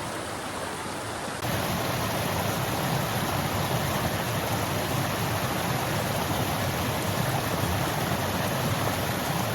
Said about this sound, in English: But there's a view of waterfall here